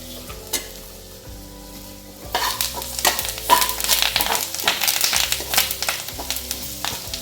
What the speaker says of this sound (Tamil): கருவேப்பிலை நல்லா பொறிஞ்சிருது